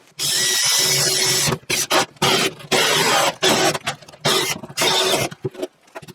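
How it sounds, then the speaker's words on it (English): A power drill bores a hole for a PVC pipe in a workshop: loud, close whining bursts of drilling that start and stop repeatedly, then a longer run, with short gaps of near silence between. "So I just got to drill me a hole right here"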